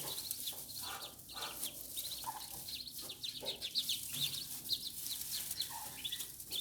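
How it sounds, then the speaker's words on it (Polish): A duck calls to its young ducklings with repeated soft quacks, mixed with a constant chorus of high peeping chicks, heard close and fairly quiet indoors. "kaczka próbuje ich zwołać, aby za nią podążyły."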